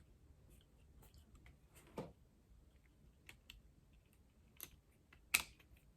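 Plastic parts of a Transformers Starscream figure folding and snapping into place, giving a few quiet, sharp clicks scattered among soft handling rustles, close by with no talking.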